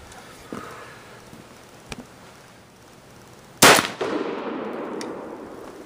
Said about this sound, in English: Alright, now we're going to go and take a shot from the 25-yard line and see how we pattern at that range.